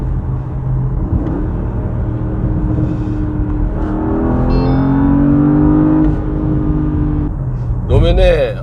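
A Porsche Panamera GTS accelerates in Sport Plus mode, its engine note climbing and holding in a smooth, controlled rumble close to the microphone, with a voice talking over it.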